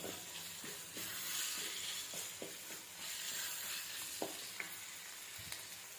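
Almonds frying in ghee for carrot halwa, a constant crackling sizzle close up with occasional soft stirring taps and pops throughout.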